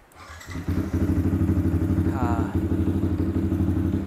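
A motorcycle fitted with a wide-band sensor starts up close by, a brief starter whir followed by a loud, steady engine idle that runs to the end.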